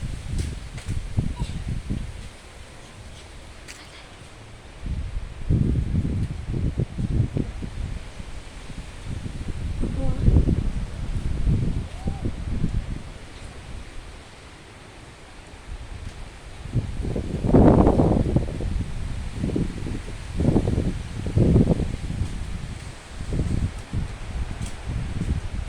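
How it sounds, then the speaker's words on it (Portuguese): Strong gusts blow through a tree outdoors, setting leaves rustling in repeated rushing surges that swell and fade over a low, steady windy rumble. "Era só o vento mesmo."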